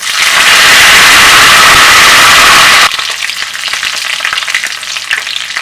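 Loud, hissing sizzle of curry leaves dropped into hot oil with dried red chillies, crackling intensely at first, then settling into a softer, steady spitting fry.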